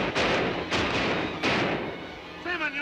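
Sharp gunshots crack out in a Western outlaw shootout, three loud blasts spaced roughly evenly and each trailing off in a decaying rumble, followed by a stretch of faint voice-like tonal sound near the end.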